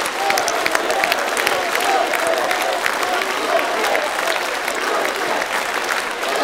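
A studio audience at the Azerbaijani TV show Səs Azərbaycan claps loudly and steadily throughout, dense continuous applause with a crowd feel.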